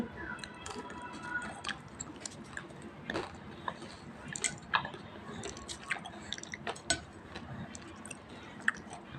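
A young girl eating food fed by spoon, close, wet chewing and squishing with irregular small clicks and smacks, quiet and continuous without talking.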